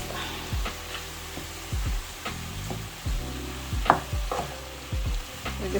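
Salmon pieces being stirred together with sauce in a hot pan, a steady sizzle under repeated scraping strokes of a utensil against the pan, close and fairly loud with no talk.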